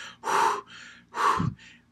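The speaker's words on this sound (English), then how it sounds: "a lot of us begin to breathe through our mouth. Heavy breaths." Two heavy, breathy open-mouth breaths, each a loud rushing inhale followed by a softer exhale, close up with no talking.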